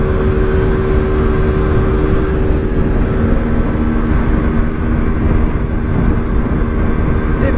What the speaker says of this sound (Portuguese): Tô só amaciando o motor.